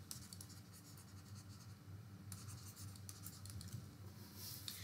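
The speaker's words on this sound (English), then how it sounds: "Let me write it carefully." A pen scratches across paper while a maths solution is written out, producing faint, continuous scraping strokes with small pauses, close but quiet under a low room hiss.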